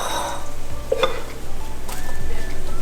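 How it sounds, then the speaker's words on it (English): Onions and mushrooms sauté in butter in a pan, a steady close sizzle broken by a few utensil scrapes and light clinks. "Sauteing onions and mushrooms."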